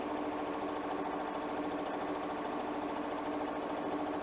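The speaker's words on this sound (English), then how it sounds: "I'm just going to turn my speed up just a little bit so that I can get better stitching" A Continental M7 sewing machine runs at a raised speed, making a fast, even mechanical whir with a rapid rhythmic stitching pulse, close and steady throughout.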